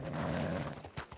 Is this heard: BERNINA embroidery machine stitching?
no